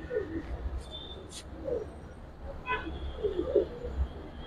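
Pigeons in a loft holding giribaz and colored breeds, cooing softly with a few low throaty coos and faint chirps over steady background noise, moderately distant.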